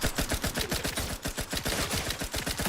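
Rapid automatic gunfire from a firefight in the video game The Outer Worlds 2, a dense continuous burst of shots in fast rhythm, loud and close, with no talk over it.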